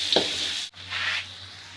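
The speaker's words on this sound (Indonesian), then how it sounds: "Selanjutnya kita tumis bumbunya." Spices stir-fry in a pan for a hearty home vegetable soup, giving a steady sizzle with scraping stirs and a brief pause midway, close and alone without talk.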